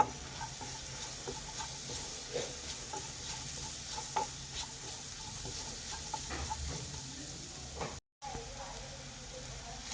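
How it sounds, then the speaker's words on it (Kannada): Chopped onion frying in oil in a pan for a ridge gourd fry, a steady close sizzle with scraping stir strokes throughout and a brief dropout near the end. "ನೋಡಿ, ಈರುಳ್ಳಿ ಚೆನ್ನಾಗಿ ಫ್ರೈ ಆಗ್ತಾ ಇದೆ."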